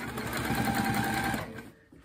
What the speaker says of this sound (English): So I'm just going to stitch down